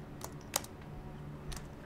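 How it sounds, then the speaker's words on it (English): A few sparse keyboard keystrokes click in a quiet room, with one sharper tap standing out against a low background hum. "And he heard the sound of typing,"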